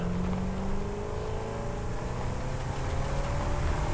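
An explorer buggy in the game Satisfactory drives fast with a loud, continuous engine drone, its pitch climbing steadily as it accelerates, with no talking.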